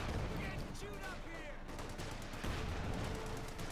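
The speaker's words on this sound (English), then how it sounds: "Battle Group Headquarters getting pelted with heavy bazooka fire." Bazooka and rifle fire in a World War II strategy game battle, a constant dense crackle of distant shots and booms running underneath a commentator's talk.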